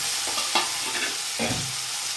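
Onions and boiled radish greens fry in a pan with a steady close sizzle, broken by a few stirring scrapes of a spatula.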